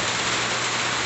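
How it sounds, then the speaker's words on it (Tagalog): Typhoon rain pouring and leaking through the wall of a house, a dense, steady hiss of water that stays constant and close with no break and no voices. "tumatagas na yung ulan sa dingding namin"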